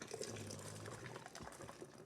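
Tomato sauce poured back into a cooking pot, a steady liquid splashing and glugging pour running continuously at close range, with no talking.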